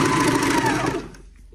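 A serger sewing machine stitches a T-shirt seam with a fast, loud, close whirring buzz that runs for about a second and then winds down to quiet, with no talking.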